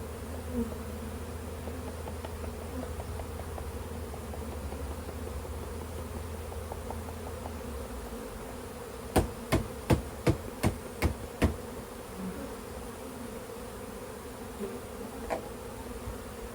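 Honey bees swarm around an opened hive during a powdered sugar Varroa mite treatment, a steady droning buzz throughout, joined midway by a quick series of sharp knocks or taps.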